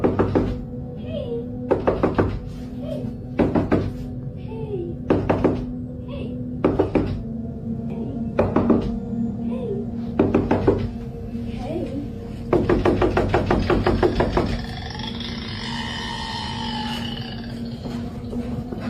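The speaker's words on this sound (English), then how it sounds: "I was watching Reels when I heard the knocking" Loud, close knocking comes in repeated bursts of rapid raps on a hard surface, separated by short pauses, with faint low vocal sounds between some of the groups.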